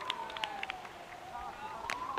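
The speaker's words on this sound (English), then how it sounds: "in the background there's a siren" A siren wails steadily in the background at a live T10 cricket match at the European Cricket Series in Belgium, its gliding tone running under scattered crowd and field noise.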